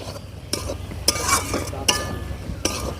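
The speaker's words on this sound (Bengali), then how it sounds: "এবারে মশলাগুলো আমি ভালো ভালো করে আমের সঙ্গে মিশিয়ে নেব" Raw mango pieces being mixed by hand with dry red chilli powder and homemade spice mix, giving soft wet squelching and rustling strokes, several distinct sharp pushes over about three seconds, close and fairly quiet, with no talking.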